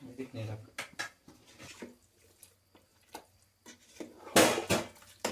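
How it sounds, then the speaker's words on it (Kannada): Dishes, pots and pans being washed outdoors, with clinks and clatters of vessels in short bursts and a louder clattering near the end, under intermittent talk. "ಕೆಲಸ ಹೊರಗಡೆ ಪಾತ್ರೆ ತೊಳಿಬೇಕು"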